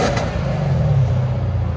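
Close low-pitched rumble of a 2015 Lexus RC F 5.0L V8 revving with its Valvetronics exhaust valves closed, rising gently then holding a steady subdued growl, no speech.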